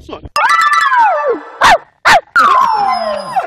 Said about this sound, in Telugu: కుక్కేంటి బ్రదర్ అరుస్తున్నట్టుంది?